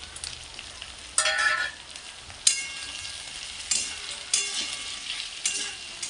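Turmeric and spices hitting hot oil while cooking a Bengali pui shak (Malabar spinach) chorchori, a close steady sizzle broken by several loud bursts of crackling as more goes in, no voices.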